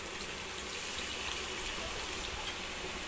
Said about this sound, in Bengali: তো আমি অল্প করেই জল দেব